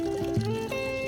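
Solar-powered water fountain pump pouring water, a soft, close trickle and splash running under steady tonal hum and ringing overtones, fairly quiet with no talk.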